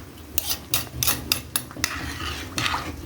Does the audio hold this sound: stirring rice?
yes